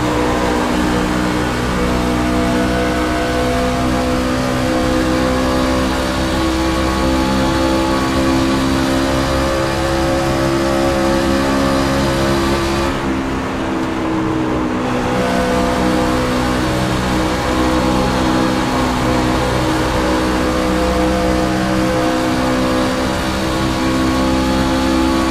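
Race truck engines roar continuously in an iRacing Truck Series event at Auto Club Speedway, a loud steady drone with layered engine tones and no gaps.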